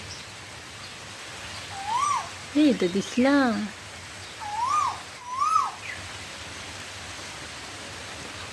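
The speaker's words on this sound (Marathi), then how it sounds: "कोकिळ पक्षी आला" A few rising, whistled Asian koel calls sound at moderate distance, singly and in a short series, over soft rain hiss, with a voice speaking briefly.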